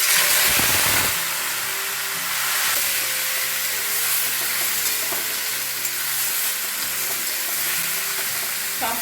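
Ash gourd pieces hit hot mustard oil already spiced with dried chillies and nigella seeds, setting off a loud, steady sizzle and crackle that runs continuously with stirring, no voices over it.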